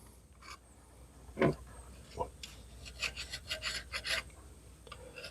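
An abrasive Scotch-Brite pad scrubs the head gasket surface of a Jeep engine, giving a series of close, dry rasping strokes in quick bursts that grow steadier toward the end, with no talking.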